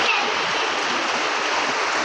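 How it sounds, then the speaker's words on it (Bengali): Rain falls steadily after a long dry spell, a continuous rushing hiss like running water, fairly close and even throughout. "অনেকদিন পরে বৃষ্টি হচ্ছে"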